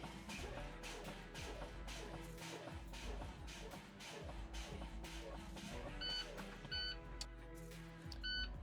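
A truck's air brake low-pressure warning buzzer sounds in short repeated beeps during a pretrip inspection, over a busy, hissing cab background as the brakes are fanned.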